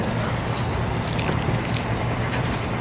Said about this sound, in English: I'm just gonna keep eating my rice ball